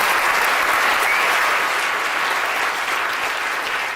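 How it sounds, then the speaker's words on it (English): A large audience applauds a chemistry professor after a lecture demonstration, dense steady clapping filling the room from start to finish, loud and close, with no voices over it. "I think we need to give a big round of applause to Professor Eric Hayes."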